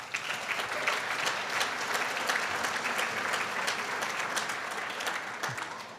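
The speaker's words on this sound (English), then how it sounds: "Round of applause." Applause from an audience at a state agricultural innovation grants announcement, a steady dense clapping that fills the whole stretch, loud and continuous with no talk over it.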